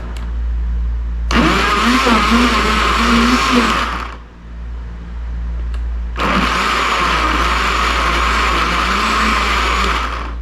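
A blender making a smoothie whirs loudly in two pulsed bursts of a few seconds each, separated by a short pause with a low hum underneath.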